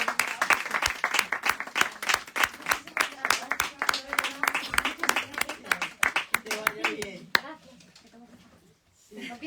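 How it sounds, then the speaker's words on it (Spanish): A small audience at a book presentation claps in sharp, distinct individual strikes for several seconds, close and clear, before the clapping thins out and speech resumes. "Un gran aplauso"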